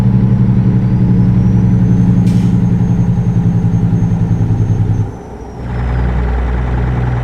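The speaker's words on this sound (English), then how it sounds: "That's what the Jake brake on this particular engine sounds like." A truck's Jake brake in American Truck Simulator, while cruising into Louisiana, gives a loud, rapid, pulsing engine rumble close by that drops off and settles into a smoother idle-like drone.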